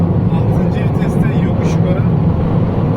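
A car converted to run on LPG accelerates steadily up a hill at highway speed, giving a constant engine and road drone heard from inside, with a voice talking over it.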